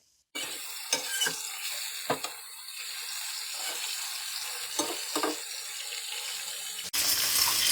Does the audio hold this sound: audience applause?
no